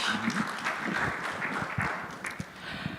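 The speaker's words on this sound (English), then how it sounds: "All right, round of applause for Vidhi." Scattered audience clapping at a startup showcase, at moderate distance, fairly soft, with a few sharper individual claps standing out.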